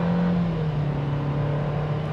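A 2023 Nissan Versa SR accelerates under full throttle with simulated shifts, its engine drone holding a steady, slowly shifting tone from inside the cabin, loud and unbroken with no talk over it.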